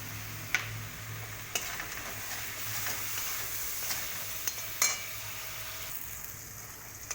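Paste of ground white and black mustard seed, green chilli, ginger and salt frying in oil for a tangra fish curry, a soft steady sizzle broken by a few sharp ticks and scrapes of stirring.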